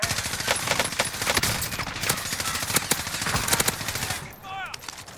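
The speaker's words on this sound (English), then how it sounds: "Taking fire!" Heavy automatic gunfire in Warzone, a dense fusillade of sharp overlapping shots from several weapons, close and loud, ending with a brief lull and a few chirping electronic tones.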